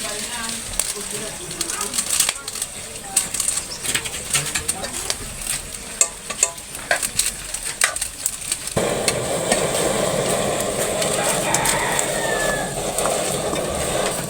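Jackfruit (langka) being stirred and frying in a pan for a Bicol-style vegetable dish, with steady sizzling and scraping stir strokes that grow denser and louder partway through, close up.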